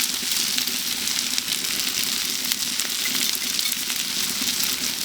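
Six scrambled eggs are poured into a pan of frying brisket hash over medium burners, producing a dense, loud, steady sizzle with fine crackling close by and no talking.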